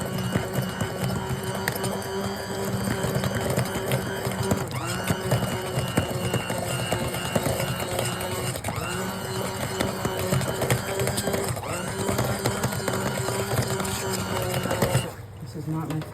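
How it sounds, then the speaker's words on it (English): Electric hand mixer whirring continuously through a batch of homemade melt-and-pour soap base, a steady close buzz with slight dips in pitch as it works, under a speaking voice. "This is not my favorite hand mixer."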